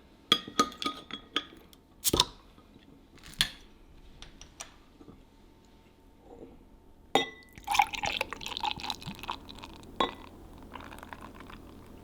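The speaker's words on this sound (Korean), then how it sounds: "거품이 좀 날 수 있게 붓고 딱 한 병이 들어가네요" Beer is poured into a glass so it foams, with sharp glass clinks and bottle knocks early on, then a fizzy, trickling pour later, close and fairly quiet.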